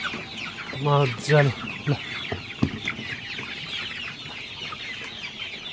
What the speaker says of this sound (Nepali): कुखुरालाई खाजा मजाले खाँदैछन्